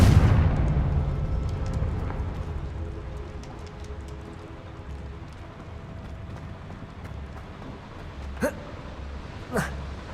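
The Confringo fire spell in Hogwarts Legacy bursts with a loud, low blast at the start that tails off into a rumbling hum, followed later by two brief sharp whooshes.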